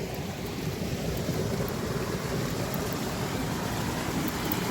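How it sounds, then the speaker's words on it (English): After rain, creek runoff rushes down from a hill in a normally dry channel, a steady, loud broadband roar of water that carries on without a break. "You can already hear the creek."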